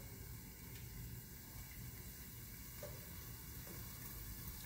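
Melted butter sizzles steadily in a pan over medium-high heat as a roux base, a soft continuous hiss with faint crackles and no voices.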